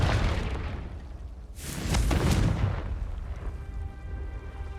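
Confringo fire spell exploding in Hogwarts Legacy on PlayStation, a loud bursting blast around the middle that swells out of steady rumbling background and then fades into lingering low roar.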